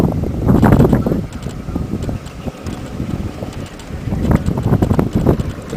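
Wind gusting at night hits the microphone in heavy, uneven buffeting bursts, loud at the start and again near the end, with a quieter stretch between.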